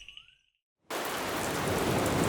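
Rain in the Ghats near the ocean starts abruptly after a brief quiet spell with a few bird calls, then becomes a loud, steady, close hiss of rainfall that fills the rest of the moment.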